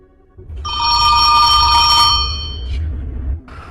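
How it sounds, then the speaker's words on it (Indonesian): A telephone bell rings loudly for about two seconds, a bright metallic trill that stops abruptly, followed by a faint low rumble. "telepon ibunya pun berdering dan si Charlie langsung menutup teleponnya."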